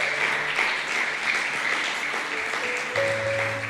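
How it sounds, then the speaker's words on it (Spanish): A church congregation applauds, a steady crowd of clapping at moderate volume throughout with faint tonal sounds underneath. "Usted aplaude y le da gusto"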